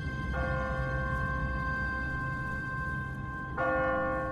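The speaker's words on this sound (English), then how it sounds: "What kind of church bell goes off at 20 past the hour?" In The Walking Dead video game, a church bell rings automatically on a timer, heard as two loud, resonant strikes with long ringing decay over a low background rumble.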